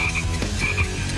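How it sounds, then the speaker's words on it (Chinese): A frog croaks in a short run of throaty, rasping pulses, close and fairly loud, with no voices over it, during a guessing game on a Chinese variety show. "青蛙"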